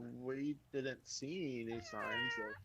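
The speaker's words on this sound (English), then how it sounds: "That sounded like a cat." A domestic cat meowing nearby in a few drawn-out, wavering cries under and between a person talking.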